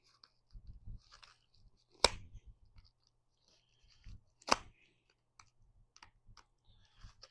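A delivery package being cut open by hand, with a few soft clicks and scraping rustles and two sharp louder snips or tears, heard up close and quiet, with no talking.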